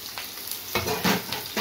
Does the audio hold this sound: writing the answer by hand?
no